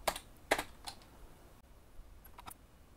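Computer keyboard typed on while setting up Arch Linux software, with a few quick clusters of crisp key clicks, close and fairly quiet, separated by short pauses and no talking.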